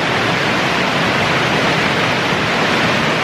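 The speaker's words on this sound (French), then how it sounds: "les petites cascades comme ça." Small cascades of a stream tumbling right beside a mixed-gender onsen in Japan, a steady, close, full broadband rush of falling water that stays constant throughout with no voices.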